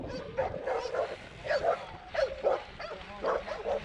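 Dog barks and yips in quick bursts while chasing a cyclist outdoors, the barks close and moderately loud over a faint background.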